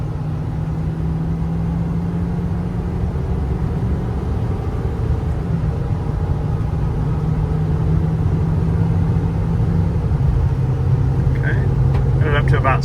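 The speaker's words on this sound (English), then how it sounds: "now I'm going to accelerate a little more aggressively" A Ford F550 bucket truck with a 6.7 liter diesel engine accelerates harder, a steady low engine drone rising slightly under constant road and cabin rumble, with a few faint clicks near the end.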